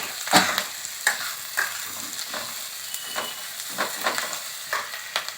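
Chopped ginger frying and being stirred in a pan with oil, a steady close sizzle punctuated by irregular scraping stirs of the spatula roughly every half second to second.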